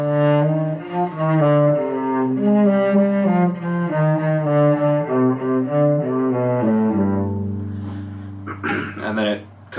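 A cello plays a passage of Gavotte in C Minor from Suzuki Book 3 in first position, starting halfway through measure 4 of the first line, with clear bowed notes that move in a steady rhythm and then settle into a long held tone before a voice briefly starts speaking.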